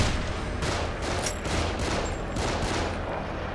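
Dense sustained gunfire from companions shooting enemies in The Evil Within, overlapping rapid shots forming a continuous loud barrage with no pauses.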